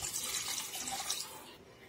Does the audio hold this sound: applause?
no